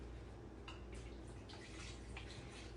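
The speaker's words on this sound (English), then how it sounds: "I use just 1 container of beef broth, and then I add water to it" Beef broth and water pouring into an Instant Pot, a faint steady liquid splash with a few soft drips and trickles.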